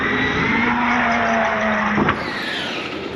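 Traxxas Xmaxx RC truck electric motor running on grass, a loud, close whine that holds a steady pitch and then drops sharply near the end, alone without talk.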